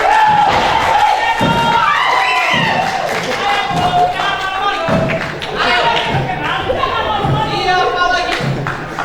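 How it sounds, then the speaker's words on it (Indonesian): A theatre audience claps and cheers, crowd noise mixed with thumps and shouting, while a performer's voice and sung or drawn-out tones carry over the top. "Tepuk tangan!"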